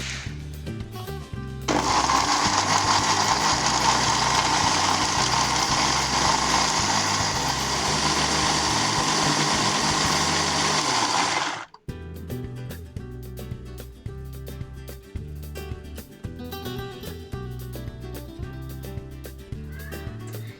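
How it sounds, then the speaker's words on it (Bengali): An electric grinder pulverising spices into a fine paste for a mud crab curry, a loud steady whine running for about ten seconds, then cutting off sharply. "এটাকে আমি ফাইন পেস্ট করে নেব। আলুটা ভেজে রেখেছি, এবার আমি মশলাটাকে পিষে নিচ্ছি।"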